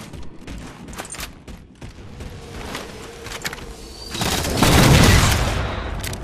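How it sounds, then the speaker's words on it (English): Halo 4 match with rail gun fire: scattered sharp game shots and impacts, with a louder burst swelling near the end, in a busy multiplayer mix with no speech. "Good rail gun there by Honda, killing the jetpacker."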